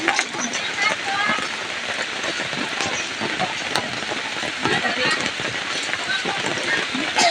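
Steady rain pours down on hard surfaces, a dense and continuous hiss with scattered drips, loud and close throughout.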